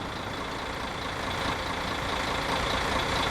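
A tourist bus idles at a stop in Tourist Bus Simulator, its engine droning loud and steady throughout with a faint hiss layered on top and no talking.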